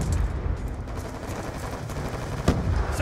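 Dense gunfire fills Black Ops 2 online multiplayer play, a continuous rattle of shots with one sharper crack near the end, no voices over it.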